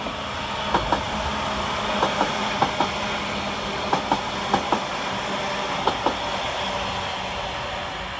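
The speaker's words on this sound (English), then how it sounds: "in the opposite direction is 331017 with the 1300 Northern service from Manchester Airport to Blackpool North" Class 331 unit 331017 on a Northern service to Blackpool North runs at Preston station, its steady rolling rumble broken by repeated paired clicks of wheels crossing rail joints.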